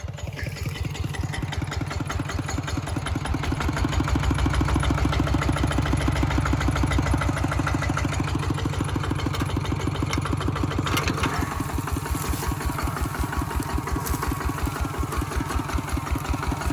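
A walking tractor's single-cylinder engine chugs in a fast, steady, loud rhythm while pulling a disc plough to turn under rice stubble in a paddy field, close by and with no talk.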